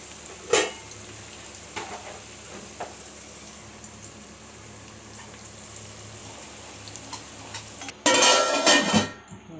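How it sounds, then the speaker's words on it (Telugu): Whole spices, onions and green chillies frying in oil in a pot for chicken biryani, a steady soft sizzle with a few utensil clinks and a louder burst of stirring and sizzling near the end. "మరాఠీ మొగ్గ, లవంగాలు, జాపత్రి, యాలకలు, బిర్యానీ ఆకు, ఎర్రగడ్డలు, పచ్చిమిరకాయలు ఇవి వేసి వేయించుతుంది."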